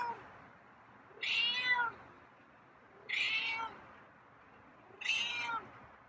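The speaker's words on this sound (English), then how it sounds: "Oh, you're meowing tonight." Three drawn-out meows from a feral cat, spaced evenly a couple of seconds apart, fairly close but soft, over a quiet indoor background.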